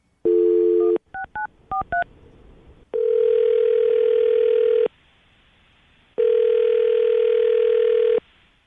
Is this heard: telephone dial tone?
yes